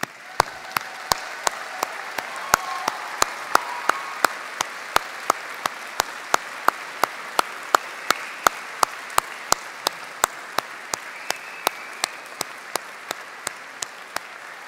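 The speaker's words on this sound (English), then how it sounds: "join me in a round of applause to say thank you to those who have helped you reach this important" Graduates at a Swinburne graduation ceremony applaud their families and friends, a sustained, even wash of clapping across a large hall, with sharp regular clicks punctuating it throughout.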